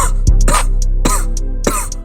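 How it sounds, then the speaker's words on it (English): Repeated coughing and throat clearing in a rap track, three or four harsh bursts spaced about half a second apart over a steady low bass drone, close and loud. "I'm coughing on this track."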